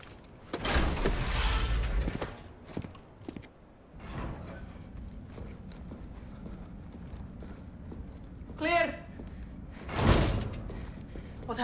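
A heavy door in Call of Duty: Modern Warfare, a solid thudding slam near the start followed by scraping, clanks and a later impact, with brief game voices in the background.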